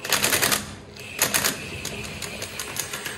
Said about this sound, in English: if you're gonna weld it, weld it a lot.